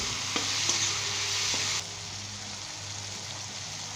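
Green chillies and round red chillies crackle and sizzle in hot oil in a pan for a Lahori okra curry, stirred with a few sharp utensil clicks; the sizzle is loud and steady, then drops to a quieter hiss partway through.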